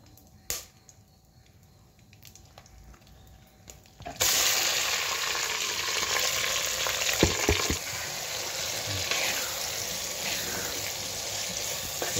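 Marinated chicken for a lazy chicken gravy dropped into a hot pan: quiet at first, then a sudden loud, steady hissing sizzle with a few scraping stirs, close, without speech.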